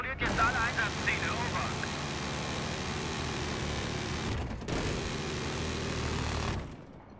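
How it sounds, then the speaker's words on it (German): A jet aircraft roars steadily in a Battlefield 3 multiplayer match, a loud continuous whoosh that drops out briefly and returns, with voices talking over it. "Ich habe einen feindlichen Jet gesichtet"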